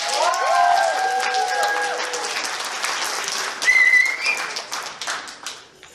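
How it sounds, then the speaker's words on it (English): An audience at a furry convention charity event applauds the volunteer AV team, with sustained clapping in a hall, a few whistles and cheers rising over it, then tapering off toward the end. "Please give your AV team a round of applause."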